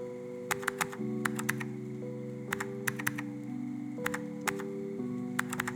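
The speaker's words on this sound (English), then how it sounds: "I always mess up the typing." Keys clack on a computer keyboard in the typing game CozyTyper, coming in quick clustered bursts of sharp clicks over a steady low musical hum.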